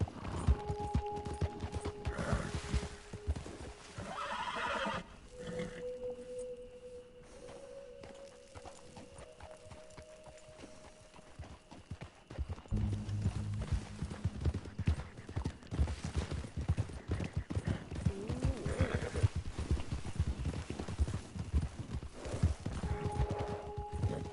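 In Red Dead Redemption 2 a horse's hooves clip-clop in a steady, busy rhythm, with a whinny near the start and again at the end.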